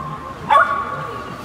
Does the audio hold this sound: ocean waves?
no